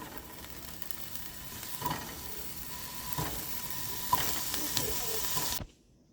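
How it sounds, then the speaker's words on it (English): Sausage sizzles in a skillet with a steady, close hiss and crackle. It carries on without pause and then cuts off abruptly near the end. "I'm going to saute this in a skillet just until it's to my light brownness"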